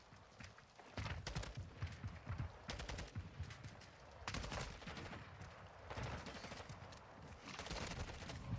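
Rapid bursts of automatic gunfire crackle in the Call of Duty MW2 video game during a 1v1 gunfight, repeated volleys with short pauses between them, fairly quiet overall.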